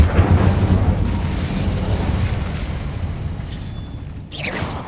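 A fire spell cast in Hogwarts Legacy on PS5 inside a cave: a loud, sustained whooshing roar of flame with low rumbling bursts that tails off and ends in a brief flare, with no talking.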